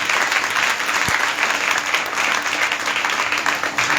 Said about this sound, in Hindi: चलिए आइए जोरदार ताली बजाएं प्रभु यीशु मसीह के लिए।